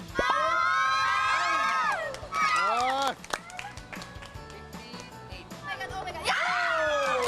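TV game show studio audience on a Filipino weekend program, shouting and cheering loudly at full volume, a dense crowd roar with scattered claps, overlapping a host's amplified speech throughout.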